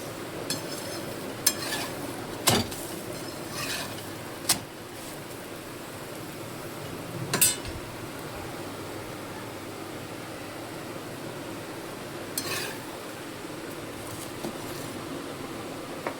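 Puran poli cooking in oil on a griddle gives a continuous soft sizzle, with a few sharp clicks and scrapes from a spatula at irregular intervals and no talking.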